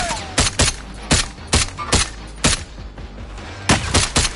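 Video game gunfire striking the player, a string of loud, sharp shots in uneven bursts, some doubled, standing out clearly over a steady background rumble.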